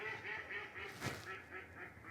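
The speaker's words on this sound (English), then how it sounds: "the geese and the ducks aren't impressed with me" Ducks and geese call together at a lush forest campground by the sea, a steady run of soft, nasal quacks and honks at moderate distance, fairly faint and unbroken by speech.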